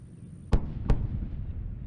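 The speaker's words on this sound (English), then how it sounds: "That's the twin sonic booms." Space Shuttle Discovery landing at Kennedy in Florida announces itself with two sharp sonic booms about a third of a second apart, deep and cracking, rising out of a quiet low rumble with no talk.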